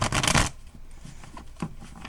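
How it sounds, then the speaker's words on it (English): Tarot cards being shuffled by hand, a dense papery riffle burst in the first half second followed by softer, quieter card handling and slides close up. "I'm gonna go ahead and pull some cards and see if something else comes out here"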